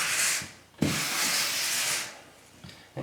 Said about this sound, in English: it's also pushing the grout down into the cracks